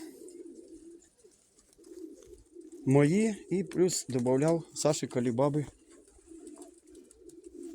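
Domestic pigeons coo in low, throaty rolls close by, alongside someone speaking in a pigeon loft.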